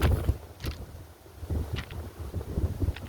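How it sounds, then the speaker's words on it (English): Gusty wind on a windy day, buffeting the microphone in low rumbling bursts with a few sharper rustles and knocks, close and uneven. "Yes, it is a windy day."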